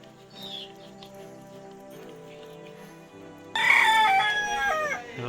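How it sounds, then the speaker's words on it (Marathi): Chickens cluck nearby in a village, then a rooster crows loudly and close in the second half, with other birds faintly in the background. "कोंबड्या ओरडतात आपल्या अजून"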